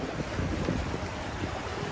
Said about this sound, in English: I love the water feature sound